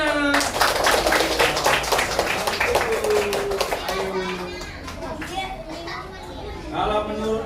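Schoolchildren in a classroom group clap a rhythmic chant in unison, loud and close, with lively kid voices and chatter mixed through the claps.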